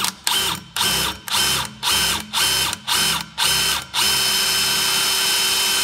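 A pilot drill bit bores into a calibrated steel flat bar, the drill running in about eight short, loud, grinding bursts before settling into one steady, continuous whir at the end.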